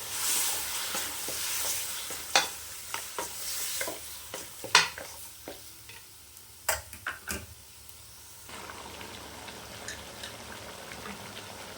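Mutton masala sizzles in a pan while a spoon scrapes and stirs it in sharp, irregular clanks, and the frying fizz fades to a quieter bubbling toward the end.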